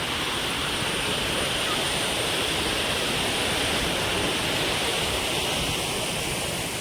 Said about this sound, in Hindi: यहाँ पर छोटे से झरना है